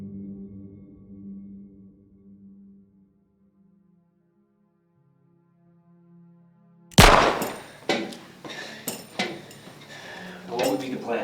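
A gunshot rings out in a film scene, a sharp, loud broadband crack following several seconds of near silence and low tones, then trailed by a few further clattering impacts and echoes.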